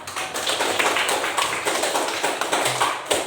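A small class of students claps together in a schoolroom during a physics lesson on Newton's laws, a dense rapid patter of hands that stays fairly even and close throughout, with no talk over it.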